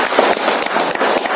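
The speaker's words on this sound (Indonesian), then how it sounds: "tepuk tangan buat Bapak Ibu semua" Brief burst of audience applause at a seminar, dense overlapping claps from a room full of people, close and fairly loud for about a second and a half.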